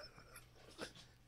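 A dog whimpers and pants close by, with short soft breathy puffs and a faint whine, quiet and alone without speech.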